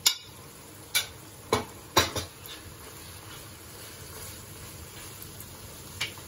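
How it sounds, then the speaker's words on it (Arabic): Eggplant being stirred into crumbled kofta in a pan, with a few sharp utensil scrapes and clinks against the pan over a faint low sizzle, spaced irregularly. "نقلب الدنجال"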